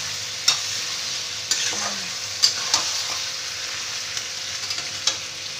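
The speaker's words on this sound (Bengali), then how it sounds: "আদা রসুন পেস্টটাকে ভালো করে একটু মিশিয়ে নেব মাংসের সাথে" Ginger-garlic paste is stirred into chicken over fried onions in a pan, with a soft steady sizzle and sharp spatula scrapes and taps at irregular intervals, no voices.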